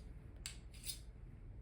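Two quick, faint scraping strokes of a whetstone drawn along the blade edge of fabric shears, each a brief hiss in a quiet room.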